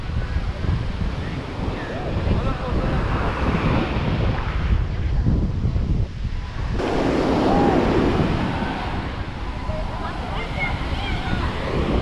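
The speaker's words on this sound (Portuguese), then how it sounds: "que mar bravo" Rough sea waves surge and break along the Bahia coast at Prado, a continuous heavy roar mixed with strong wind buffeting the microphone, with people talking faintly beneath it.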